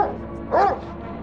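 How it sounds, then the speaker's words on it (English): A single short dog bark or yip from the video game Darkest of Days, heard once at moderate volume over a steady game background. "Ooh, a dog!"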